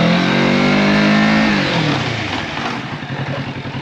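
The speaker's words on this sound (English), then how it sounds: "This is really, really hard braking." A Kawasaki Z650 RS decelerates hard under front and rear braking, its engine note falling quickly from a loud whine to a lumpy, pulsing idle.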